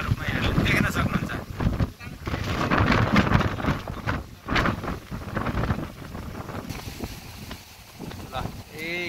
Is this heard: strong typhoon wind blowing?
yes